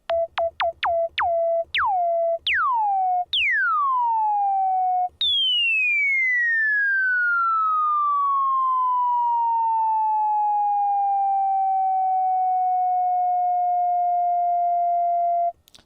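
A 1974 Minimoog synthesizer note is struck repeatedly in quick plucks, each filter envelope decay growing longer, until a final bright note slowly sweeps down and fades over many seconds.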